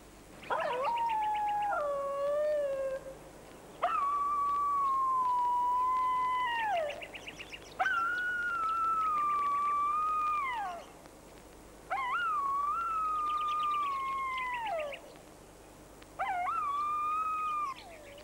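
A wild dingo in the Australian outback howling, five long, wavering, tonal howls separated by short pauses, each rising then sliding down, clear and fairly close against a quiet background.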